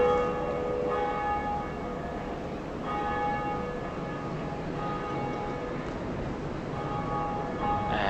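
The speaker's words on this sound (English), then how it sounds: "you completed the first part by ringing the bell" A church-style bell rings in Dark Souls, its clear metallic tones struck several times at intervals and left to sustain and ring out over a constant background hum.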